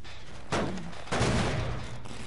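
A thrown firework in a PS4 video game going off as two loud, close crackling blasts a half-second apart, each with a noisy burst and a short rumbling tail, with no talking.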